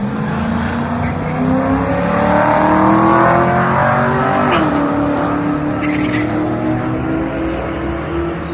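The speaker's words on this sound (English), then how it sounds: "we just did our first pass against that M3" LS1-swapped third-gen Camaro with a TH400 transmission making a quarter-mile drag race pass: a loud, sustained V8 roar climbing steadily through the gears with a brief shift dip, close and continuous throughout.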